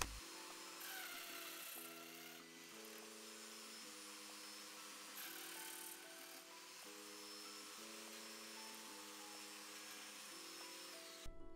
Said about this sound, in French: Pour cet usinage, je vais utiliser la domino